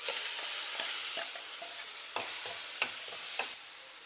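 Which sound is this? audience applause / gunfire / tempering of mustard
tempering of mustard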